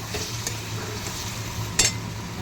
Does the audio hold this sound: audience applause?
no